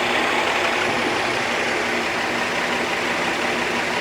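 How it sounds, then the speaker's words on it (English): A 1962 AMC Rambler's 196 cubic inch Nash-designed engine runs steadily, a smooth continuous hum from close by without talk, long after the car sat abandoned. "you hear how smooth this is? This 196 cubic inch Nash designed engine is running."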